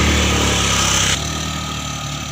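A Honda Beat motorcycle idles nearby with a loud, steady low engine drone that drops abruptly in level partway through and continues more quietly.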